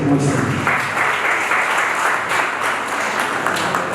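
Guests at an engagement ceremony break into steady, dense applause that fills the room, continuous clapping from many hands held at an even level throughout.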